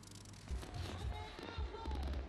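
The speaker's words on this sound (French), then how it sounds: "Ciel de Bouaké illuminé de feux d'artifice" Fireworks thud and boom repeatedly in the distance over Bouaké, Ivory Coast, deep rumbling bursts rolling over a murmuring crowd.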